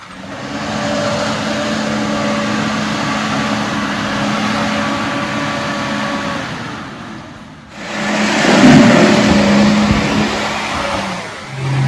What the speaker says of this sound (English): Spin those wheels, Matty.